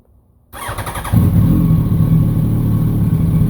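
A 2007 Yamaha R1 motorcycle in a garage cranks briefly and catches, then settles into a loud, steady idle that stays close and continuous.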